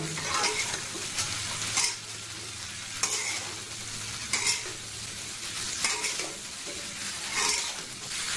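Chopped bitter gourd with salt and green chillies fries and is stirred in a pan over high heat, Kolkata dhaba style, with a steady sizzle broken by repeated scraping strokes of a spatula, close and fairly loud, with no voices.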